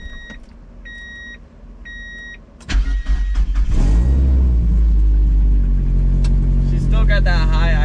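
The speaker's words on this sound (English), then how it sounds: "at least you guys can hear some good engine noises and hear the exhaust" A Mazda Miata starts up: a few dash chimes beep, the starter cranks, and the engine catches and roars into a loud, steady high idle with rumbling exhaust close by.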